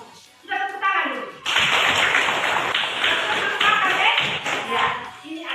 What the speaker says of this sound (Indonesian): Sudah tepuk tangan dulu.